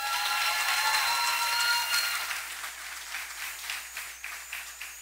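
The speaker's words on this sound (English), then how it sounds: "Let's give them another round of applause." An audience applauds at a graduation ceremony, a dense steady round of clapping that swells and then gradually thins out toward the end, with no talking over it.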